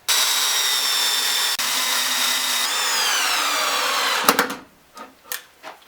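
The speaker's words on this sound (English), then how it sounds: "I just want to pre-drill countersink and throw some screws in here." A power drill whirs steadily for several seconds, bogging slightly as it drives a screw into pallet wood, then stops, followed by a few scattered clunks and taps.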